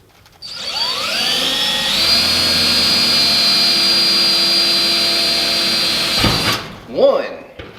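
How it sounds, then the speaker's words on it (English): A power drill whines at a steady high pitch for several seconds, then cuts off, followed by a short rattle and a voice. "I like to start out my drill bit small and then work my way up"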